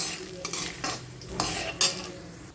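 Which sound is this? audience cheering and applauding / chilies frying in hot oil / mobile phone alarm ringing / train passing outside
chilies frying in hot oil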